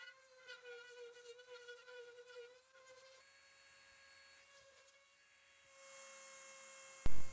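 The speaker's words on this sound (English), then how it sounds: "You need to move slow and steady with the Dremel, no sharp or jerky movements." A Dremel rotary tool carving a foam tombstone gives off a faint, thin motor whine whose pitch wavers as it cuts, ending with a short, louder burst.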